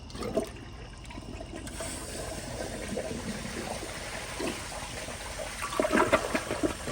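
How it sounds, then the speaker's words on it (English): A 2004 Kohler Highline Ingenium toilet flushing, with close rushing, gurgling water that swells toward the end and then trickles as the bowl refills, with no voices. "here's a flush"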